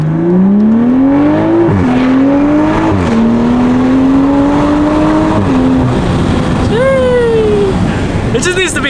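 A 2021 Toyota Supra A91 with a downpipe exhaust revs loudly and accelerates through several rising gear pulls, its close engine drone climbing and dropping at each shift, with a faint voice in the background.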